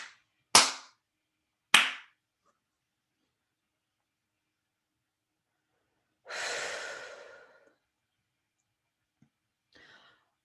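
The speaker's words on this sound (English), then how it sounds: "I'm going to do some clapping, clearing on that." Two sharp, loud hand claps ring out in quick succession in front of the face and body, followed by a long soft breathy exhale and a faint trailing breath in a quiet room.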